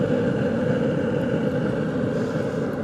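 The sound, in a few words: Traeger Ranger pellet grill running like a turbo jet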